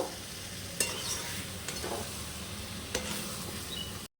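Potatoes stirred into fried lote fish (Bombay duck) in a pan over a steady, fairly quiet sizzle, with a few sharp clinks of the utensil against the pan.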